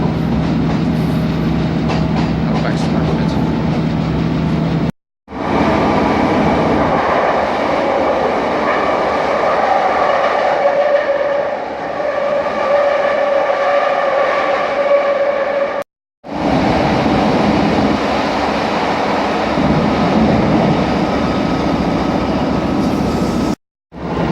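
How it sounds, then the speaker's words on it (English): A train rumbles past close by, loud and continuous with rattling wheel clatter, broken by a couple of abrupt cuts. "I heard it come along, so yeah, got a train."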